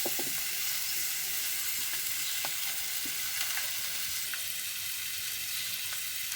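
Spices with turmeric, salt, dry chilli powder, ginger paste and coriander paste frying in oil in a pan, a steady close sizzle with occasional crackles and pops, no voices.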